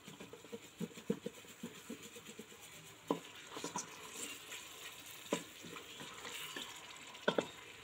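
Spice paste fries in a pan for a beef and potato curry, a faint steady sizzle broken by soft scraping stirs and occasional knocks of the utensil.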